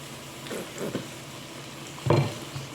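Spaghetti sauce of tomato sauce and ketchup stirred in a pan, soft scraping strokes over a faint sizzle, with a louder clatter of the utensil against the pan near the end.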